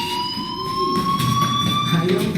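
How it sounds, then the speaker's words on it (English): A school fire alarm in the video game Life is Strange sounds as a steady, continuous electronic tone with a faint, slowly gliding pitch, holding at an even level throughout with low background noise beneath. "Hey, do you hear that fire alarm?"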